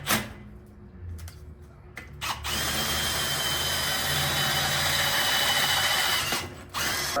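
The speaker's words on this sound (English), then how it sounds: "So I'm gonna have to drill every one of these out." A power drill whirs steadily up close while boring out suspension kit washers for a 1988 Toyota 4Runner body bushing job, starting after a few short bursts and running continuously before briefly stopping and restarting.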